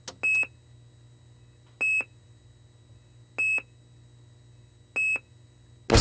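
A hospital heart monitor beeping, four identical short electronic tones sounding alone at regular intervals of about a second and a half over a faint low hum.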